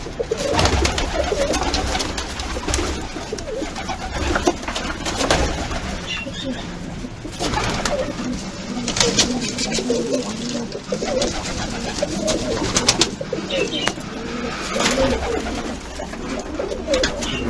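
Pigeons, Japanese pigeons among them, coo continuously inside a coop, overlapping throaty calls close by with occasional wing flaps, while faint voices murmur in the background.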